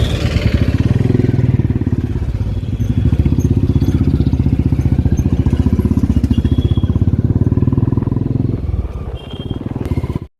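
A motorcycle carries four riders along a road. Its loud, close engine holds a steady rhythmic thrum with wind rush, then eases slightly near the end.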